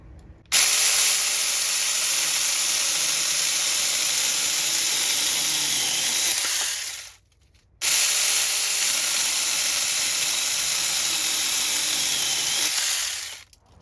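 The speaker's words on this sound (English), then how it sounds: "let's go ahead and try this mini chainsaw on some lumber" A Saker mini electric chainsaw cutting lumber whines loudly and steadily through two long cuts of about six seconds each, with a short pause between them.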